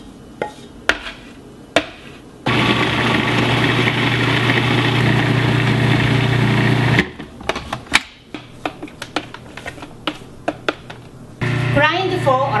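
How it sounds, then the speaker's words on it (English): A food processor grinds cooked red beans for a Korean mochi filling, a loud steady motor whir running about five seconds, then sharp clicks and knocks of the bowl and lid, and a second short burst of grinding at the end. "But I'm going to use a food processor."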